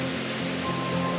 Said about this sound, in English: I don't know if you can hear us over the sound of the waterfall.